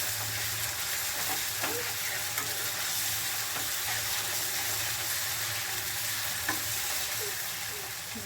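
Mushrooms sautéing in a pan, a steady bright sizzle with scattered clinks and scrapes of a spatula stirring, constant and close throughout with no one talking.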